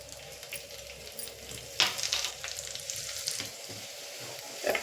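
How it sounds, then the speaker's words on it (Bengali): Whole spices tempering in a little hot refined oil for a tomato chutney, a steady close sizzle and crackle with brighter spits and pops scattered throughout, no talking. "অল্প একটু রিফাইন তেল দেবো। এর মধ্যে এবার আমি ফোড়নটা দিয়ে দিচ্ছি।"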